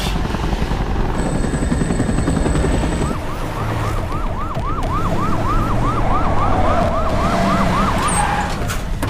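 An ambulance siren in an action movie scene wails in a steady rising and falling cycle through the middle of the clip, loud over a dense rumble of engine or rotor noise, with no talking.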